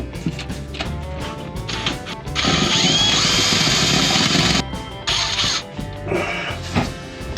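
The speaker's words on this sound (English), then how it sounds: "so we can drill like crazy angles." A power drill fitted with a right-angle extension attachment bores at an awkward angle inside an F-550 truck camper build, a loud sustained whine for about two seconds, then shorter bursts amid workshop clatter.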